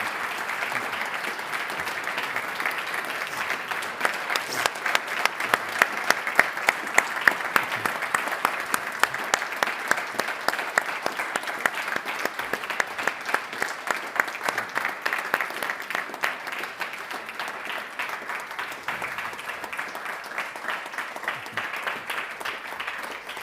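Long, sustained applause from a conference audience honoring politicians at a Western Balkans peace forum, dense clapping that swells into a rhythmic, synchronized beat before thinning out.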